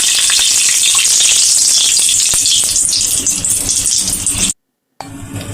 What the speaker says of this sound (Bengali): এখানে শুকনো লঙ্কা আর তেজপাতা কড়াইটাতে দিয়ে দিলাম